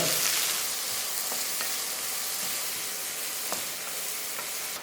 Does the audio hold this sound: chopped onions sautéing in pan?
yes